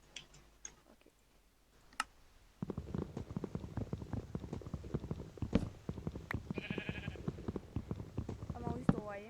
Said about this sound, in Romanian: Am auzit o oaie.